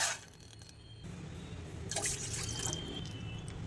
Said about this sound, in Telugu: ఇప్పుడు ఇందులో 2 కప్స్ వాటర్ వేసుకుందాం.